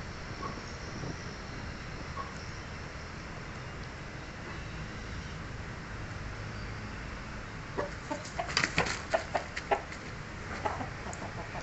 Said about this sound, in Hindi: देखिए मुर्गा कितने शौक से खाएगा, अभी मुर्गे को डालूंगा फौरन मुंह